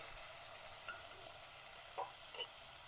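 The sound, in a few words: tomato, onion and peas sautéing in oil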